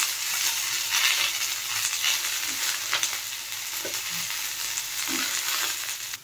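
Chopped onion and cauliflower frying in a hot pan, a steady close sizzle with occasional stirring scrapes and soft knocks, no voices.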